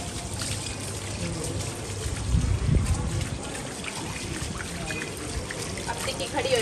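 Water pours and trickles steadily over a pet dog named Tikki being bathed, a continuous splashing wash with a brief louder burst midway, while people talk over it.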